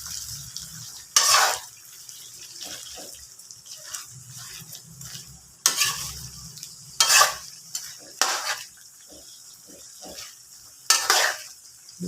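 Buttered garlic shrimp sizzle softly in a pan while a utensil scrapes and clinks against the metal in several sharp bursts as the shrimp are turned.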